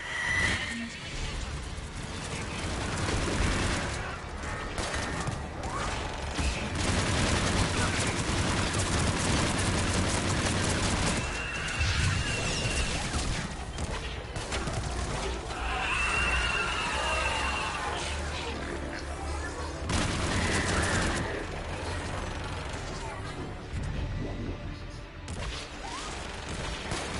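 Missiles and gunfire in the Mass Effect video game crash and thud amid battle noise, with repeated impacts and bursts under frequent voices talking.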